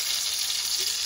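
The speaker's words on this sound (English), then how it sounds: "How fast those are frying up." Vegetables fry in a pan over medium heat and crisp on the underside, giving a continuous, lively sizzle close by with no pauses and no speech.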